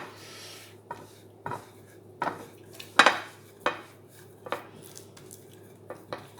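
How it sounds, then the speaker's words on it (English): Pork steak is mixed and rubbed with jerk and masala spices in a bowl, producing irregular clinks, taps and scrapes of utensils against the dish, with one sharper clatter partway through and no speech. "Mix all this together, make sure it's fully coated and rubbed."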